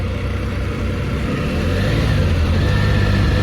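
A Can-Am Spyder three-wheel motorcycle runs close by with a steady, loud engine drone that builds slightly and keeps going without a break.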